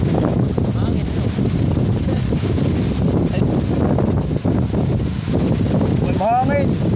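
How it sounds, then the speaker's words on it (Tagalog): Strong wind buffets the microphone outdoors in a constant, heavy roar, with a brief whistling squeal near the end; no voices rise above it. "Hangin ito."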